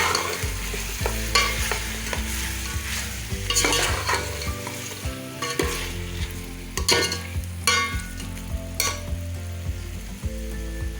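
Finely chopped medium tomatoes for biryani sizzle in a hot pan while being stirred, with repeated scraping strokes and clinks over a constant close frying hiss.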